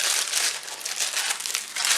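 Crinkly plastic packaging from an AliExpress parcel of stationery is handled and unwrapped up close, a continuous busy rustle with brief louder crackles and no talking.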